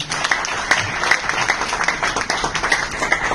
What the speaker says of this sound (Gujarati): તો જોરદાર તાળીનું સ્વાગત કરશું ભગવાન સરનું